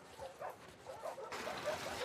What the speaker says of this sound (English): I love these little dogs.